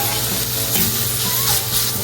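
Onions frying and caramelizing in a pan give off a steady, dense sizzle with faint stirring scrapes, loud and close, with no talk over it.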